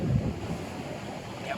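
Ocean waves wash in at a beach in Goa, a broad, continuous roar of surf mixed with heavy wind buffeting the microphone.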